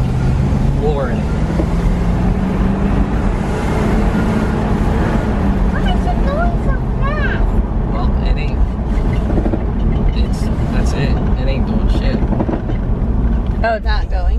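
A 1979 Malibu Wagon's engine pulls hard under full throttle on its first drive in 20 years, a steady loud drone with wind buffeting and voices talking over it.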